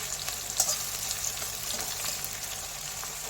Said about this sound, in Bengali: পেঁয়াজটা ভাজা হোক